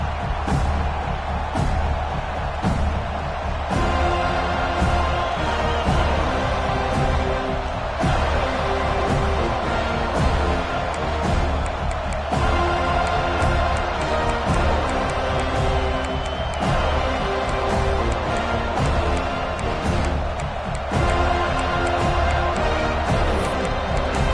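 A large video game stadium crowd at a college football game roars and cheers continuously, with swelling waves of noise and a low rhythmic drone beneath.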